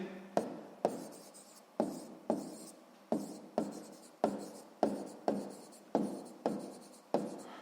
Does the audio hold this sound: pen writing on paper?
yes